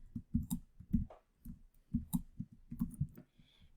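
Keys clicking on a computer keyboard as a simple math problem is typed into a draw slide, a quick irregular run of close, fairly loud taps with brief pauses between bursts.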